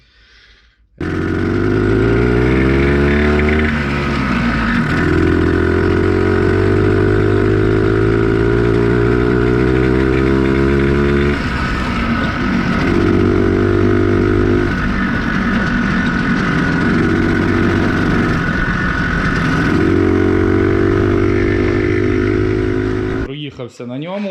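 Planeta Sport motorcycle engine heard while riding: a loud, close, buzzing engine note that climbs and drops in pitch through repeated gear changes and revs, then cuts off at the end.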